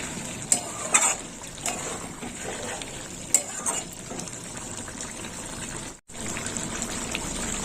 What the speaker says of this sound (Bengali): ঝোলের সঙ্গে বড়িটাও ফুটবে